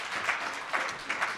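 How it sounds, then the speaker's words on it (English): Applause from a conference audience at a business services summit and awards event, a brief steady wash of many hands clapping at moderate level, with no voices over it. "Round of applause."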